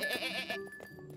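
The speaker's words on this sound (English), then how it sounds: "Another goat?" A goat on an alpine farm gives a single close, quavering bleat, followed by quieter background sounds.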